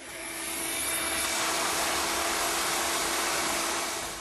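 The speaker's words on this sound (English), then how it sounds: "A wet vacuum then removes it" Wet vacuum sucking up radioactive decontamination gel from a building's concrete, a steady loud whooshing drone with a constant hum tone, alone and unbroken throughout.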